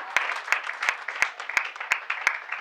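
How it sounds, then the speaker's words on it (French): Audience applause at a certificate presentation ceremony for workshop participants, a steady bed of clapping with sharp, regular loud claps standing out about every third of a second. "Applaudissons comme il se doit."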